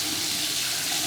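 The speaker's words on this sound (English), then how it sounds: "You can see here, we got both sinks working." Cold water runs steadily from a newly installed bathroom sink faucet in an off-grid home, a continuous close hiss and splash with no talking.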